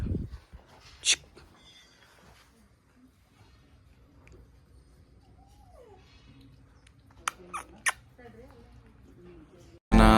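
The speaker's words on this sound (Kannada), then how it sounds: "ಇಲ್ಲೊಂದು ನಾಯಿ ಐತೆ ನೋಡ್ರಿ ನನ್ನ ರೂಮ್ ಕಡೆ" A dog lets out a few short, sharp yelps and a thin whine, scattered among people talking indoors.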